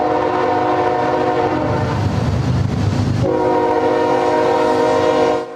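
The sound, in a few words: freight train passing with horn blowing at crossing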